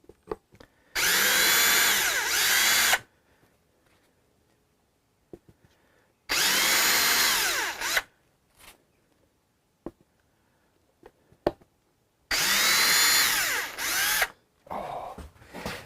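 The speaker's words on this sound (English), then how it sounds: "Let us use the power driver to do this." A power driver backs screws out of a Hofner Galaxie guitar under restoration in three loud, whirring bursts of about two seconds each, with small clicks and handling noises between them and no talk.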